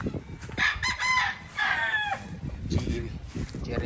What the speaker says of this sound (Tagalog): Ito yung mga broadcocks.